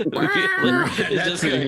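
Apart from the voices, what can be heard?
cat meowing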